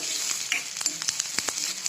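Chopped onions and tomatoes roasting in a hot pan for a chutney, a crisp close sizzle with scattered pops and scraping stirs, no talking.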